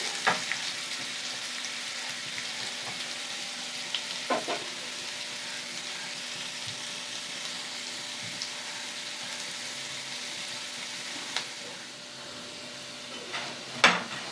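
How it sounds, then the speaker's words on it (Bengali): Potatoes frying in hot oil for a Bengali tangra fish curry give a steady, fairly quiet sizzle throughout, with a few sharp crackles and pops scattered over it and no talking. "মাছের মধ্যে লাল লাল করে আলুটাকেও ভেজে নিতে হবে।"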